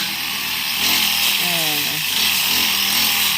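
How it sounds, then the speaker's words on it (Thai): A lawn mower cutting grass drones loudly and steadily throughout with a harsh buzzing tone, its pitch shifting slightly midway. "คือก็ต้องตัดหญ้าเสียงเครื่องตัดหญ้า ดัง ก็จะหนวกหูหน่อย"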